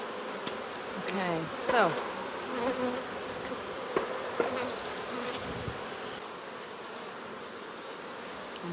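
Honey bees buzz around an opened hive during an inspection, a continuous droning hum with individual bees whizzing past the microphone. A person briefly speaks.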